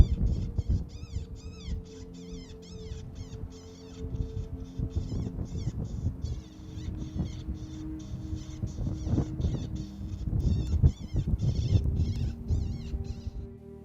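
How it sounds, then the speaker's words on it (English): Predator call playing a baby cottontail distress sound outdoors while hunting coyotes and bobcats in Kansas, repeated high, thin wavering squeals in rapid bursts over low rustling and handling noise, fairly faint. "I'm playing baby cottontail demise"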